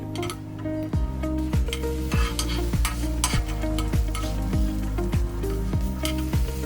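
A paneer sandwich toasting and being turned in a pan. A steady, close sizzle runs throughout, broken by regular spatula scrapes about twice a second.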